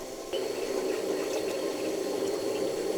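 Fish curry broth with curry paste boiling hard in a pot, a steady loud bubbling roar that starts abruptly and continues alone without talk.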